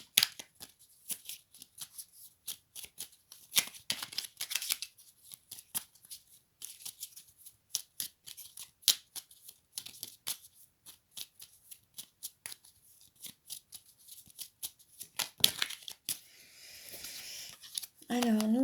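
Oracle cards shuffled again and again, a long run of quick papery riffles and soft slaps, close and fairly quiet, with a voice coming in near the end.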